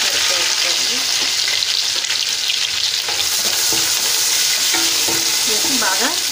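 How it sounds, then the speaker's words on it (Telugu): Onions and green chillies fry in a pan, a loud dense sizzle with scraping stir strokes and occasional clinks, continuous throughout. "ఇది వేగిపోయిన తర్వాత కట్ చేసుకున్న వాళ్ళు పచ్చిమిరపకాయ వేసుకోండి"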